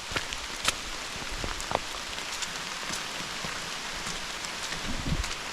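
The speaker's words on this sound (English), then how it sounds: "Nothing wrong with a little rain, right?" Steady rain patters across the ground and surfaces at a football stadium, a dense, even hiss with scattered sharper drops striking nearby, no voices present.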